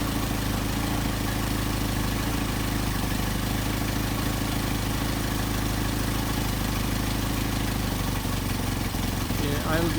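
A Mercedes 190SL engine idles on Solex carburetors, a steady, even mechanical hum that holds continuously without revving.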